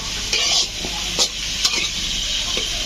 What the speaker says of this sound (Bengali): এখন একটু নাড়াচাড়া